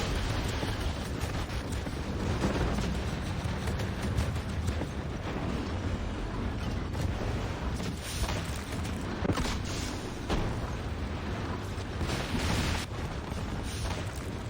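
Rocket launchers firing repeatedly in the mobile war strategy game Warpath, a dense, continuous roar of booms and blasts from a base, with no pause across the whole stretch.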